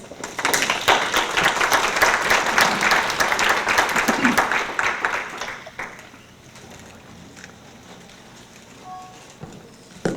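An audience at a community justice academy event on DNA technology applauds loudly to welcome panelists, dense clapping for about five seconds before fading to a quiet room.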